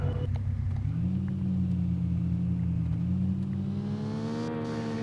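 Car engine in Taxi Driver Simulator 2024 on PS4, steady droning hum that climbs in pitch as the engine revs up, continuous and fairly loud with no one speaking.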